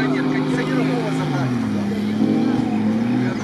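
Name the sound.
off-road car revving engine, digging itself in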